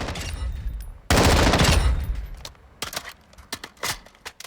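Gunfire from the MCX Virtus with a muzzle brake in Call of Duty Modern Warfare II: one dense, loud burst of automatic fire lasting about a second, then sparser single shots and short bursts at irregular intervals.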